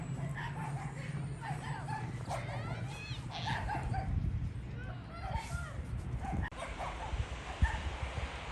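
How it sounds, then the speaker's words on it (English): Dogs bark and yip outdoors in the snow during a snowstorm, short yelps and whines scattered through the stretch, partly under people talking nearby. "There's the dogs."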